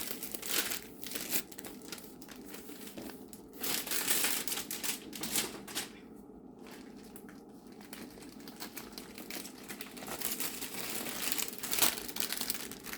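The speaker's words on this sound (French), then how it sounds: "Donc la toile est emballée dans un sac plastique" A plastic bag holding a diamond painting canvas is torn and opened up close, with loud bursts of crinkling and rustling broken by brief pauses.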